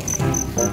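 Crickets chirp in a home garden, high repeated trills in short bursts over a low background rumble, fairly close.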